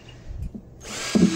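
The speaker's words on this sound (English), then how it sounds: "I'm going to drill four more down here." A power drill spins up and bores into a plastic bucket for a worm compost bin, with a sudden, loud whine after a few soft handling knocks.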